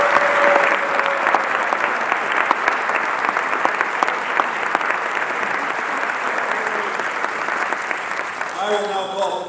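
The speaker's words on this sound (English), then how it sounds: "I invite you once again to express your recognition by applause" A crowd at a college honors convocation applauds award recipients with sustained, dense clapping that holds steady, then tapers as a voice begins speaking near the end.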